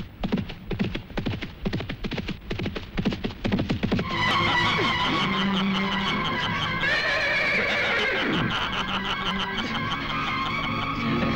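A horse in a Gujarati film scene is heard as rapid hoofbeats for several seconds, followed by a loud, drawn-out whinny set against a sustained musical score.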